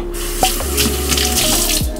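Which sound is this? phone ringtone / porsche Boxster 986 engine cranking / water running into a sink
water running into a sink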